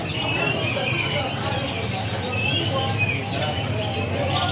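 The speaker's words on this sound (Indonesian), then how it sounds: "Nah kita next ke murai batu dulu untuk burung murai batunya." Murai batu (white-rumped shama) whistle and chirp among other caged birds at a busy bird market, with steady crowd chatter and background noise under the song.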